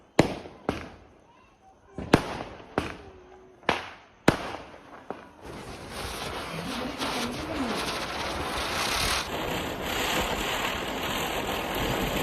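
Lakshmi bomb and pop pop firecrackers burst in a series of sharp, loud bangs at irregular intervals. A dense, continuous crackling roar follows and persists to the end.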